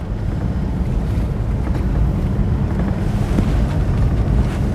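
Strong wind roars past the microphone while riding in a moving vehicle, a loud continuous rushing buffet with no clear speech.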